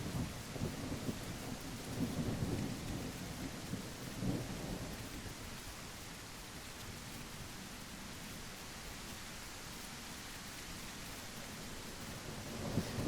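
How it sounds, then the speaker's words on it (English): A thunderstorm brings steady rain hissing on surfaces, with low thunder rumbling through the first half and fading to a constant wash of rain, heard from a sheltered spot. "This is a kind of cozy storm."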